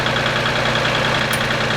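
A backhoe engine runs loud and close at a steady, rough idle, its low rumble unbroken through the short moment.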